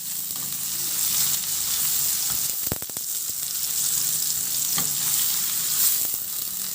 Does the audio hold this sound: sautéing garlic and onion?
yes